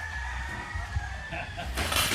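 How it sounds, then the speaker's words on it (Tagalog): Chickens cluck and call at a breeder's farm, with a few short fowl sounds rising over a steady low rumble of background noise and a brief louder burst near the end. "They really breed chickens"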